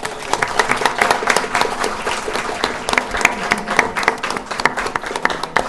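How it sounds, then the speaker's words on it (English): An audience at a book launch event claps in sustained applause, dense and even, with individual hand claps audible throughout the room. "Please join me in giving them another round of applause."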